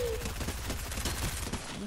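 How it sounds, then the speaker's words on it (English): Rapid gunfire from the video game Fortnite rattles in dense bursts under a steady noisy bed, fairly quiet and continuous for two seconds. "There's people there. There's gunshot."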